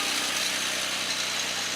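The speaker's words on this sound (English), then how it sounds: "there we are, cold start" A 1987 VW Cabriolet engine runs just after a cold start, giving an even, moderately quiet mechanical hum with no breaks in its brief span.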